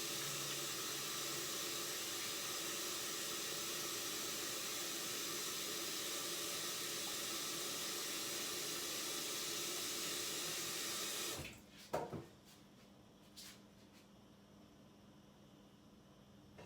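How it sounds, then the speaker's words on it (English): Tap water runs steadily from a faucet into a kitchen sink for hands to be washed, a loud continuous hiss that stops abruptly, leaving a few faint clinks and drips in a quiet room. "I'll wash my hands again."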